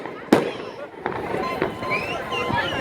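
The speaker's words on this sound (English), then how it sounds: "Yes, folks, at least we have other fireworks here." Fireworks exploding at a July 4th celebration in Plymouth, a sharp nearby bang followed by a few more muffled bursts and crackle over steady background noise, with people talking faintly in the crowd.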